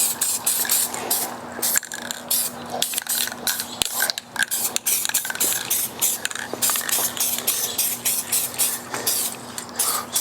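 Spray paint hisses in short repeated bursts as a light tack coat goes onto a part for a 1986 Monte Carlo SS dash, close and loud with small rattles between passes.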